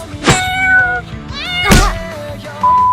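Two loud, close cat meows with rising and falling pitch, separated by a pause, followed by a softer trailing tone at the end.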